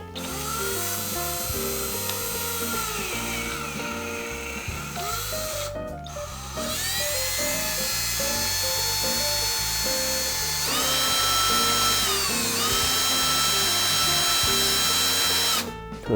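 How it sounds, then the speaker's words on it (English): A drill twisting wire strands held in a vise runs almost continuously at close range, with steady whining motor tones that shift pitch slightly, pausing briefly twice before spinning up again. "And the other end in a drill."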